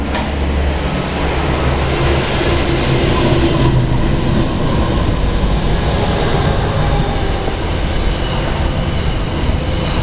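Train hauled by BM4 locomotives passing at Point Clare, a loud continuous rumble of wheels and carriages with faint squeals and clatter throughout.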